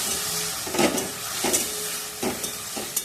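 Ground spices, including turmeric and Kashmiri chili powder, sizzle in hot oil in a pan for a fig curry, a continuous hiss broken by a few louder bursts as they are stirred, close up.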